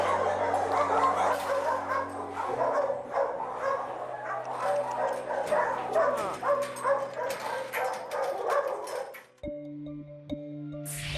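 Dogs rescued from abuse and neglect bark and yip at an animal shelter, several nearby animals overlapping in a loud, continuous chorus with whimpers, fading out near the end as a low steady hum remains.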